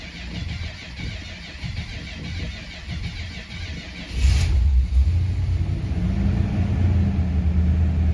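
A 1972 Chrysler Imperial's cold engine cranks with a low churning for several seconds, then catches and settles into a steady, deep idle rumble that carries on loudly to the end.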